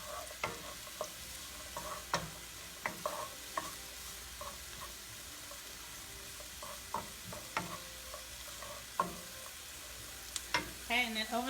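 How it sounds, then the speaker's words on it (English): Onions and chopped garlic fry in a pan, a soft steady sizzle beneath occasional scraping stirs and light clinks of a utensil, quiet and close. "you can go ahead and add in your chopped garlic. And let that cook a little bit."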